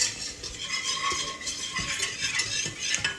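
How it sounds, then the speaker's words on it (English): A whisk scrapes and clinks steadily against a pan, beating flour, butter and milk into a medium white sauce, with a continuous brisk stirring rhythm and faint tapping throughout. "I'm going to whisk this, to a cup of milk makes like a medium white sauce"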